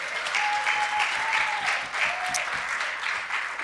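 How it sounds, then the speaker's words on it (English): Crowd at a comedy show clapping and cheering, a thick steady wall of applause with a few whoops rising above it, moderately loud throughout. "An extra round of applause for my wife"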